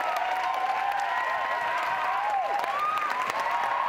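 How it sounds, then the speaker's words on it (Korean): An audience rises in a standing ovation at the end of a roughly forty-minute stage performance on a university campus, dense continuous applause that holds steady throughout. "기립박수가 터져 나옵니다."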